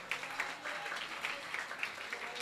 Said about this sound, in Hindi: तालियां बजाते हुए आप लोग अनुमोदना करें